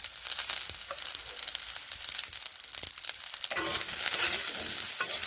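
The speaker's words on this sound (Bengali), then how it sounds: "ভালোভাবে হলুদ গুঁড়োগুলোকে এইভাবে মিশিয়ে নেড়ে নিচ্ছি" Turmeric powder being stirred into frying eggplant and mung dal in a pan, a steady close sizzle with continuous scraping and stirring strokes that grow louder toward the end, no talking.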